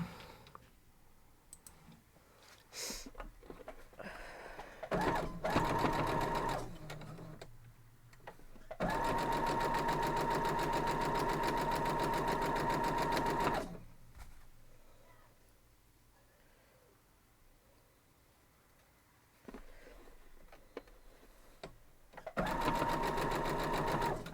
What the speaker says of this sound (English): So we'll just go back to the sewing machine.